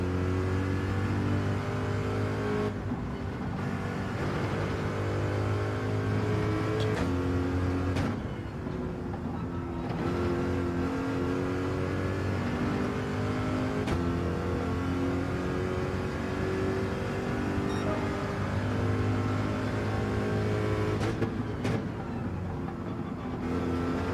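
Corvette engine in Gran Turismo 7 racing, revving continuously with repeated gear shifts and rising and falling pitch, loud and steady for the whole stretch.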